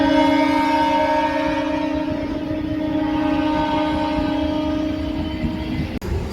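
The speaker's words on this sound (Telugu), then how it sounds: "ఇదిగోండి చెన్నై లోకల్ ట్రైన్." A Chennai local train runs past at close range with a steady, loud rolling roar and sustained horn-like tones, heard alone without talk.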